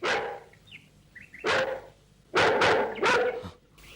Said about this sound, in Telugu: మొరగకే హస్తినాపురి కుక్క.